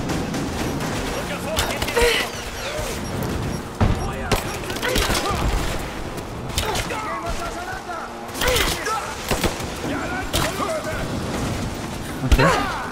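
Gunfire in the video game Rise of the Tomb Raider, with scattered bursts and shots over a busy game soundscape while someone talks.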